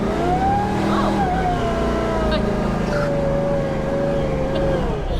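An off-road wrecker truck strains out in two-wheel drive, its engine droning steadily under a rising and falling whine, with faint speech-like sounds mixed in.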